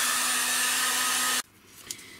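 A hair dryer blows on glued fabric with a loud steady whine for about a second and a half, then cuts off abruptly, leaving faint room noise and a small knock.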